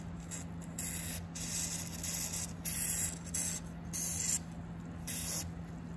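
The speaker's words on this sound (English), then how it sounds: "get some white lithium grease and spray these transmission linkages here" Aerosol white lithium grease sprayed onto the transmission linkages of a mid-1990s Chevrolet Caprice or Impala SS, several short hissing bursts close by over a steady hum, no talk.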